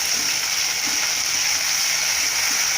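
Ginger garlic paste is added to hot oil with mustard seeds while cooking a potato fry, and it sizzles in a loud, steady, crackling hiss with no pauses.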